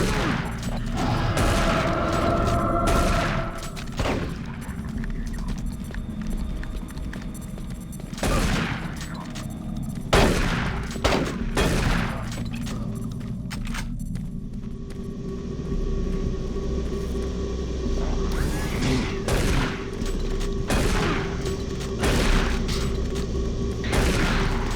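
Shotgun-wielding enemy firing in DOOM 3 BFG Edition, with repeated loud booming blasts at irregular intervals amid other combat noise and a low rumble, with no talk.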